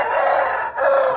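Rooster of a fighting-cock breed crowing close and loud in a backyard animal pen, a single strained, raspy call with a brief break midway.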